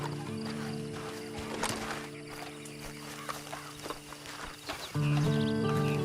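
A horse in the Red Dead Online video game, with soft hoof clip-clops and a brief snort amid steady in-game ambience and music tones, ending in a louder sustained tonal swell.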